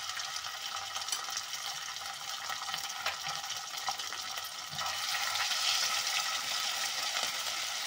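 Finely chopped ginger dropped into hot oil with garlic in a frying pan for a tempering, a steady sizzle that grows louder and fuller partway through, with faint stirring.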